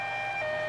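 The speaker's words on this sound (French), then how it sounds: "je comprends mieux les sirènes là" An electronic siren wail in the WWE 2K16 wrestling game, a steady high tone held briefly and loud.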